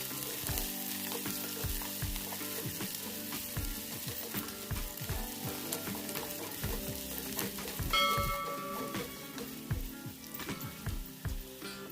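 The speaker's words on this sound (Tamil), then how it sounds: "சேர்த்து நல்லா வதக்கி விட்டுக்கிறலாம்." Small onions and green chillies sauté in hot oil for a Kerala-style fish curry, giving a steady, close sizzle and crackle throughout, with frequent soft stirring scrapes and taps from a utensil in the pan.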